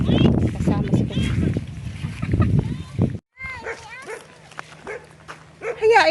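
A dog barks several times up close amid voices and outdoor bustle, then the scene goes quieter with faint chirping sounds.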